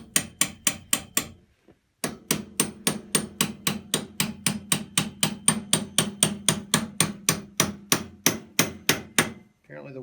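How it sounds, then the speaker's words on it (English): Steady, sharp hammer blows strike a straight chisel to split a 1950s-era welded John Deere tractor steering coupler, about two to three ringing metallic hits per second, close and clear, with one brief pause. "I'm going to take a straight chisel with the idea that one of these halves should pop loose"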